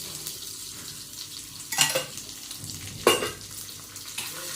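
Garlic rice fries in oil over a high flame with a continuous crackling sizzle, punctuated by two sharp, louder bursts as the pan is stirred; no voices.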